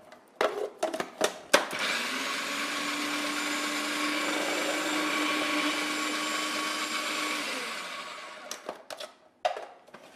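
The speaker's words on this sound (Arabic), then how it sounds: "نهود شوية دايما من الميكسور باش كل شي ينطحلني كيف كيف" A kitchen blender grinds spinach in one loud, steady whir lasting several seconds, framed by short clunks and bursts before and after the motor runs.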